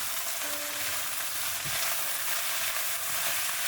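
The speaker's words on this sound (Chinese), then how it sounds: "炒香之后，再将奶油白菜倒进来，大概炒30秒左右就行" Napa cabbage, scallion and chili being stir-fried in a wok, a dense, loud, continuous sizzle heard up close with no voices over it.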